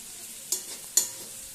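A pan of frying spices, cooked before chow mein goes in, hisses with a gentle, even sizzle, broken by two quick scraping stirs.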